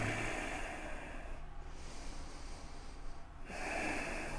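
A long, steady breath during a yoga stretch, heard as a close, airy hiss with a soft dip in the middle before the breath flow returns, with no talk.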